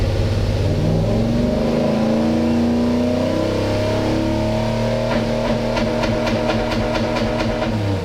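A Toyota 1UZ V8 fitted in a pickup runs loud and close, holding a steady idle before climbing into a series of quick, rhythmic revs toward the end.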